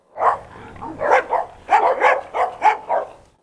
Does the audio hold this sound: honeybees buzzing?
no